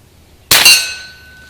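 An air gun pellet from a Winchester 1977XS strikes a long metal gong, giving one sharp, loud clang followed by a ringing metallic tail that fades over about a second.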